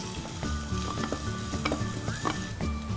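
Tofu frying in oil flavored with garlic and ginger, a steady close sizzle with stirring scrapes and ticks throughout and no voices.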